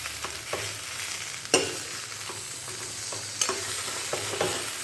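Chalta (elephant apple) pieces are stirred with Kashmiri chili powder in a pan. A steady low sizzle sits under repeated scraping stirs and a few sharp spoon knocks, with no one speaking.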